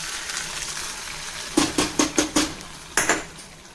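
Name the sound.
curry leaves sizzling in mustard and garlic tempering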